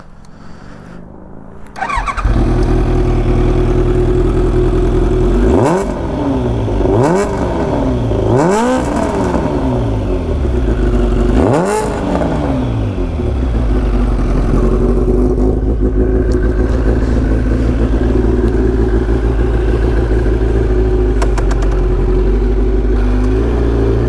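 A 1996 Kawasaki ZX9R Ninja motorcycle fires up close by and settles into a loud idle, with its exhaust barking through four sharp throttle blips before returning to a steady rumble.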